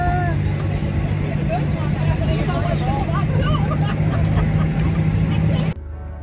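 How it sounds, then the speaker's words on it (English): Riding in a tractor on a fall outing, a steady low engine drone hums beneath lively chatter and laughter, then cuts off abruptly near the end. "We're in a tractor."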